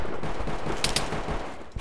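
Gunfire during a bandit attack on the Skadovsk in the S.T.A.L.K.E.R. video game, a dense continuous burst of shots with a couple of sharper cracks standing out near the middle.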